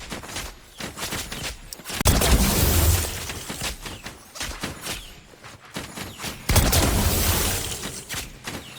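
Sniper rifle no-scope headshots in a video game, heard as bursts of gunfire and impact booms, loudest around two and six and a half seconds, set against constant busy game noise.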